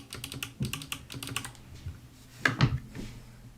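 Quick bursts of keystrokes on a computer keyboard, irregular clicking clusters with a couple of heavier thumps near the end, close and fairly quiet with no talking.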